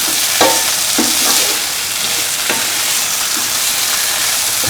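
A spoon stirs cottage cheese pieces into a red spinach stew as it sizzles in a pan, a steady close frying hiss with a few soft scraping knocks.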